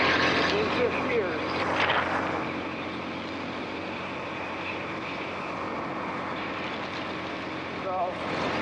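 A 2010 Yamaha V Star 250 motorcycle engine cruises in fifth gear at about 50 to 55 mph, giving a steady, even drone under a constant wash of wind.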